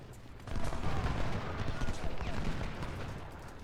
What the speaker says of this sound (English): we want the skirmishers to start shooting at these troops to delay them